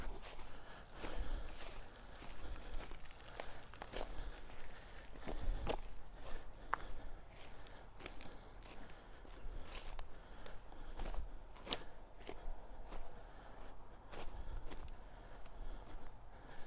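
Footsteps crunch at an even walking pace along an old railroad track bed among the ruins of a coaling yard, close and moderately loud over light outdoor background.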